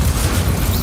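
Fire spell cast in Hogwarts Legacy on PC, a loud, brief whooshing burst of flame with a dense low rumble throughout.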